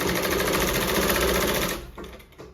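A sewing machine stitches along the edge of a garment in a steady, close, rapid whir, then stops abruptly near the end, leaving a few soft handling sounds.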